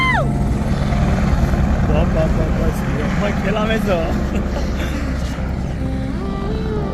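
Steady, loud rotor drone of a helicopter on a ride at Gandikota fills the scene throughout, with voices talking and exclaiming over the constant engine roar.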